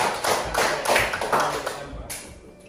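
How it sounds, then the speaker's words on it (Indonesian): A short burst of clapping from a small group of children in a classroom, loose and uneven taps that thin out and fade after a couple of seconds. "kita beri tepuk tangan dulu"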